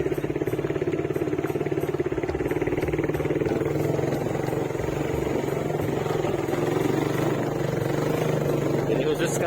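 Motorcycle engine droning steadily as the bike rides along a village road through rural West Java countryside, a close, continuous mid-pitched hum with some rattle and clatter that never lets up.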